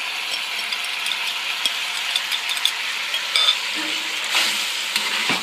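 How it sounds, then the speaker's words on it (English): Onion, garlic and sauce simmer and sizzle in a pan for General Tso's chicken, a steady close bubbling hiss with light stirring clinks, no talking. "I'm going to let that simmer up here a bit, enhance all the flavors in the sauce"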